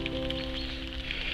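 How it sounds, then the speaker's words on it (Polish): Light, steady rain patters softly and evenly on a lakeside fishing spot, a faint continuous hiss with a low steady hum underneath and no talking. "cały czas nie leje, tylko pada taki spokojny deszczyk"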